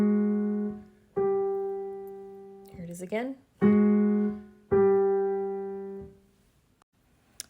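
An augmented sixth chord built on the lowered sixth degree in the bass with the raised fourth above, sounded as sustained harmonic tones that resolve outward to an octave, played several times in succession with a brief spoken phrase in the middle.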